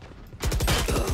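Rapid automatic gunfire from the video game Valorant rattles in a loud, close burst of evenly spaced shots after a brief quieter lead-in.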